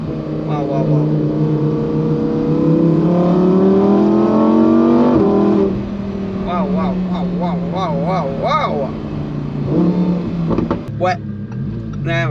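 A Lamborghini Performante Spyder in sport mode revs upward under acceleration, its engine pitch climbing steadily for several seconds before easing off. Excited voices then take over, with shorter engine bursts underneath.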